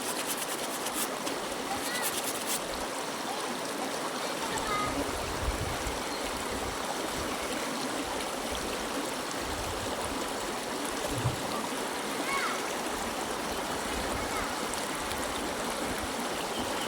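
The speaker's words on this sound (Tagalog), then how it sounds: "Maririnig mo lang talaga dito ay ano, Tubig na. tubig tsaka mga ibon." Stream water flows and trickles continuously outdoors, a steady close wash of running water with faint hints of birds, while people talk intermittently over it.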